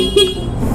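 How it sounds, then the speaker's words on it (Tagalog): One short, bright honk of a 2021 Yamaha Mio Soul i 125 scooter's stock horn, brief and fairly loud, over steady engine idle and outdoor noise. "Yun yung stock na busina niya."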